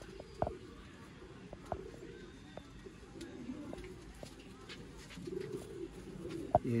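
Soft, low cooing of Sialkoti pigeons repeats in short phrases, fairly close, with a few light clicks and background rustle.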